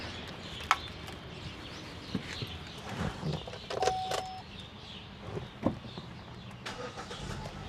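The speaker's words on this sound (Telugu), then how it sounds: "సింగిల్ సెల్ఫ్లో స్టార్ట్ అయింది సార్." A 2020 Hyundai i20 Sportz petrol car starts on a single crank, with a short starter whir followed by a settling idle and a few scattered clicks and thumps, heard close and without talk.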